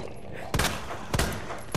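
Three loud gunshots from Resident Evil 2 Remake, spaced roughly half a second apart, each a sharp broadband crack over a steady low background hum.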